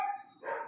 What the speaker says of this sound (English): I'm sorry for all the barking in the background.